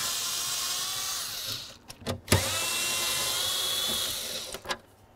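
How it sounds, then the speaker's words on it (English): Electric ratchet or power driver spinning out bolts with a 7mm socket on the steering column of a 1999-2007 Chevy Silverado during a combination switch replacement; a steady high whirring runs most of the time, broken by a few short bursts and pauses. "Let's remove these two lower bolts using a 7mm socket."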